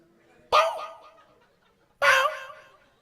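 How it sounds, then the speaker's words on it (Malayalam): A dog gives two sharp, separate barks about a second and a half apart, with quiet in between. "ഡോണോ എന്തിനാ കുരച്ചേ?"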